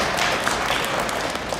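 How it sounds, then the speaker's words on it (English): Applause from an audience for a panel of local racetrack promoters on a stage at the Motorama 2018 motorsports show, a steady dense wash of clapping with scattered taps, held throughout. "So let's give them a round of applause and thank them for their time and all their efforts"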